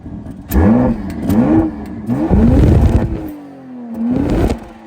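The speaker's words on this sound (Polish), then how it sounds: "Wydech w trybie Efficient, bez podbijania dźwięku, czyli Iconic Sounds." A BMW X3 M50 engine is blipped several times with the exhaust in Efficient mode, short muffled revs rising and falling in quick succession, then a longer steady rise and a final rev, close and fairly loud.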